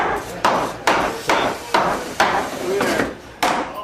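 Repeated hammer blows at a work day, about eight loud, close strikes in a steady rhythm roughly every half second, each with a brief ringing decay.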